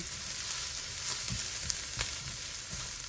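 Garlic fries for pinakbet in a pan, a loud steady hiss of sizzling oil with a few soft stirring taps, and no voices.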